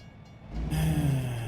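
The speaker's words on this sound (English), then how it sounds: "Okay, train. Well, you guys can enjoy this train then." A train passes in the American Truck Simulator video game, rumbling in after a quiet start and holding a loud, steady low drone with a faint tonal hum on top.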